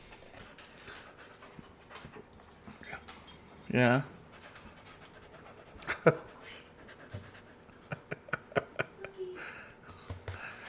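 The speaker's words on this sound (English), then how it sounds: "we've got two puppies here chewing on my" Two puppies chew and pant close by, with a short whimpering burst and scattered soft clicks and taps, while a person speaks quietly beneath them.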